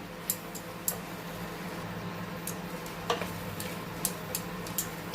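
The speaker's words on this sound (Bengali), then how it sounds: "আখের গুড় দিয়ে দিলাম দিয়ে ভালো করে এটাকে নাড়াচাড়া করে নিই" Tomato pickle with sugarcane jaggery is stirred in a pan, with a low background sizzle and irregular light taps and scrapes of the spoon against the pan every second or so. No one speaks.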